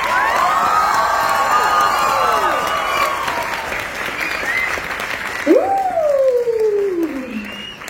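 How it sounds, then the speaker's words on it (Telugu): An audience applauds and cheers after a comedy skit, sustained loud clapping and crowd noise with whoops and shouting voices rising over it, fairly close and continuous throughout. "లేజీ స్కిట్ కి లేజీగా చప్పట్లు కొట్టక్కర్లేదు"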